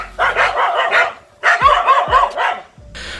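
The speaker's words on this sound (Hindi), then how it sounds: "इन कुत्तों की गैंग ने इस झील में बैठे अकेले मॉनिटर लिजार्ड को घेर लिया" A pack of dogs barks at a monitor lizard sitting in a lake, giving two dense bursts of overlapping, loud, close barks separated by a short pause, with no talk.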